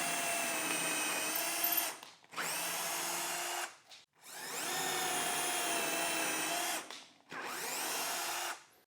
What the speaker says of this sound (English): I can go ahead and drill my holes.